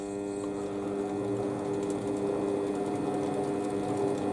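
A Warco lathe running in reverse during a threading setup gives a steady, close mechanical whir with a rapid, even rhythmic chatter throughout and no talking.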